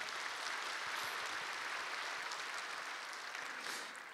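A church congregation applauds during a Sunday morning service to welcome new members, a steady dense clapping from many hands filling a large sanctuary, sustained for several seconds and fading slightly at the end.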